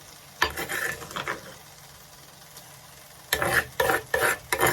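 Blended peppers stirred into a frying pot for vegan jollof, with bursts of scraping and sizzling near the start and again toward the end around a quieter gap.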